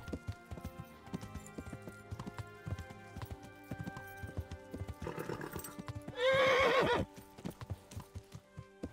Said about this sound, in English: Horse is getting very pissed off for some reason.